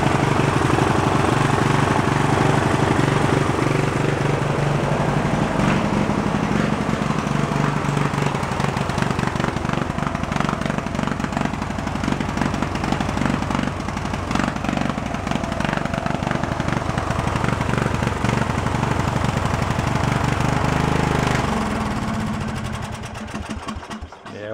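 Old tractor engine with carburetor trouble runs loud and close for the whole stretch, a rough, uneven chugging drone that cuts out abruptly at the end.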